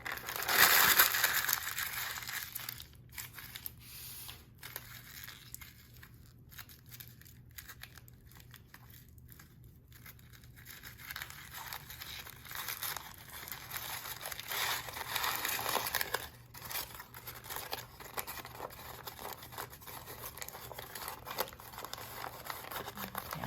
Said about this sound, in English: Okay, but first I'm gonna crumple.